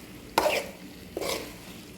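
A spoon stirs cooked tuna lumpia filling in a pan in two short scraping bursts with a pause between, fairly close and faint.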